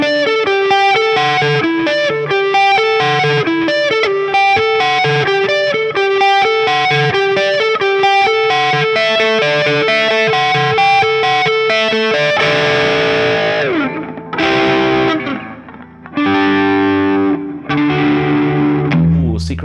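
An electric guitar plays through a pedal board with all effects on, heavily processed chords and notes with distortion and chorus ringing continuously, then breaking into choppier strummed bursts near the end.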